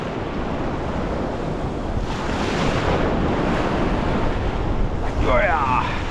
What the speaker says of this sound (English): But that wind is absolutely horrendous.